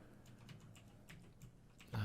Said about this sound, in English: I'm trying every key on my keyboard right now